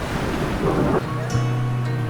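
Sea surf washing up on a beach, a loud continuous roar of breaking water with wind buffeting the microphone and a low steady hum in the later part.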